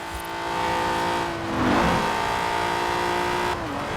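Twin-turbo 3.6-litre car engine with Garrett T25 turbochargers in Forza Horizon 4, revving loudly with a rising whine and steady drone, then dropping off near the end.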